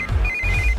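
A telephone rings in a Hindi-dubbed South Indian action movie, a steady electronic ringtone running through nearly the whole short moment over low background music, fairly loud and close.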